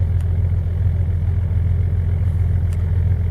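A DAF 575 six-cylinder diesel in a Dutch steel cruiser runs steadily with a deep, even low-frequency drone, heard alone at close range without pauses.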